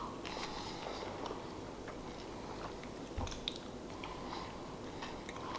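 Someone chews a crunchy Nestle chocolate bunny, faint close-up crunching and biting in a steady irregular rhythm, with one slightly louder crunch partway through.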